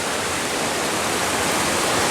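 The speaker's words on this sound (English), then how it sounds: "this is the river that forms the big canyon" Rio Virilla in Costa Rica, the river cutting a big canyon, rushes in a steady, loud, broadband roar of churning water that holds without a break throughout.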